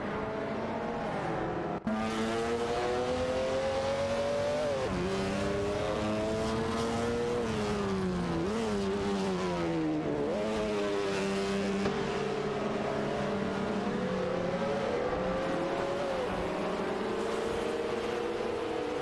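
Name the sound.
race cars driving through tight track section, racing video game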